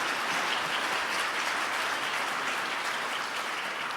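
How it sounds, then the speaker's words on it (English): An audience at a public discussion between a city mayor and a university president applauds steadily, a dense sustained clapping from the crowd that holds its level for the whole stretch with no talk over it. "that deserves a round of applause"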